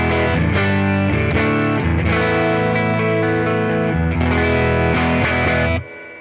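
Distorted electric guitar played through a Neural DSP Quad Cortex amp modeler with heavy reverb and chorus-like effects, loud sustained chords with several picked attacks, ringing out and cutting off near the end.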